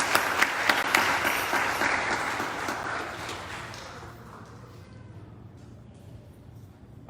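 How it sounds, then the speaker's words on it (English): Warm audience applause greets musician Sri Persad on the final night of Navratri at Devi Mandir in Pickering, Ontario, a full crowd clapping that gradually fades to scattered claps and near quiet. "Give him a nice round of applause"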